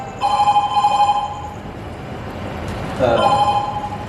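A telephone rings on stage during a Hindi play, in two warbling electronic bursts, about a second each, separated by a pause, over faint room noise.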